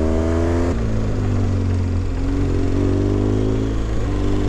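A motorcycle rides along a bumpy road in the Picos de Europa, its engine loud and close, with pitch stepping up and down through gear changes over a constant rushing wind.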